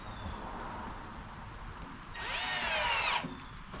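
A power drill drives self-drilling lath screws, a loud whirring burst of about a second as the screw bites in and seats, rising over a steady background hum.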